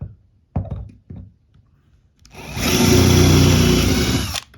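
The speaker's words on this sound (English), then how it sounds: "one way of removing the rivet is using a drill and a drill bit" A few sharp knocks, then a power drill whirs loudly and close for about two seconds, drilling out a rivet on a motorhome, before stopping abruptly.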